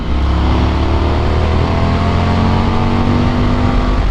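An Indian FTR 1200 S motorcycle ridden in fourth gear at about 50 mph, its engine a loud, steady close drone with wind rush, holding a constant pitch throughout.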